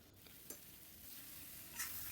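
Cauliflower pieces frying in oil in a pan for an Assamese fish curry give a steady, close sizzle, with a few brief stirring clinks along the way and a slightly louder hiss near the end.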